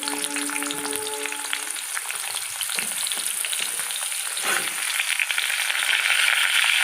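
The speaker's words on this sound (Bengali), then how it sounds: "এবার এই তেলের মধ্যে বাকি আনাজগুলো দিয়ে দেবো।" Vegetables sizzle and fry in hot oil for a vegetarian khichuri, a steady crackling hiss that runs throughout with light stirring clatter and no talking.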